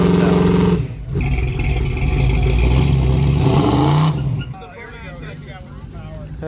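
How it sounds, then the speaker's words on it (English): A car revs hard during a burnout attempt in a hotel parking lot at the 2023 Power Tour car event. The engine roars loudly and close for several seconds, then drops away, with voices and crowd noise mixed in. "some nights you'll see some pretty wild burnouts at your hotel"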